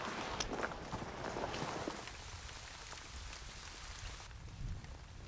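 Rain begins falling on a mountain summit, a steady soft patter of drops on surfaces with faint footsteps mixed in, moderately quiet throughout.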